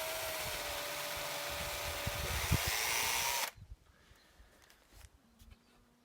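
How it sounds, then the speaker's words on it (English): A power drill whirs steadily and loudly for a few seconds while pre-drilling a pilot hole in wood, then stops abruptly, followed by quiet handling noises. "So I'm going to make a hole first, pre-drill it."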